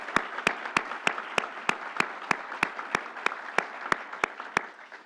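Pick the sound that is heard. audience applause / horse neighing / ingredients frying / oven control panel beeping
audience applause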